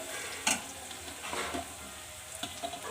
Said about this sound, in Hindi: प्याज को बिल्कुल धीमी आंच पे अच्छे से फ्राई करेंगे, बिल्कुल गोल्डन ब्राउन करना है